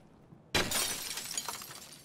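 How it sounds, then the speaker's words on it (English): Glass shattering in Escape from Tarkov during a dorm firefight: a sudden loud crash of breaking glass, followed by a couple of seconds of tinkling, scattering shards. "Still you, just shattering glass."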